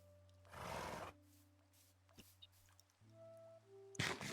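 A horse in the Minecraft video game gives two short neighing bursts, the first louder and longer near the start and a brief one at the end, over quiet game background tones.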